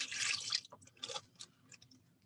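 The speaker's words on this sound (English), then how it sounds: "See, it's fizzing a little bit." Vinegar and baking soda fizzing inside a bag, heard as a burst of crackling hiss that breaks into scattered small pops and drips, close and fairly quiet, with no talking.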